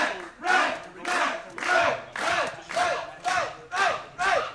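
A wrestling crowd roars in rhythmic waves of cheering and chanting, eight or so swelling bursts in steady succession, loud and dense with many voices together.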